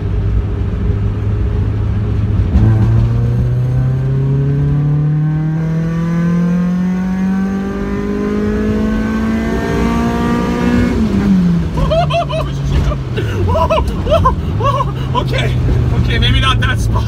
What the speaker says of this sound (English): gonna do the third gear pull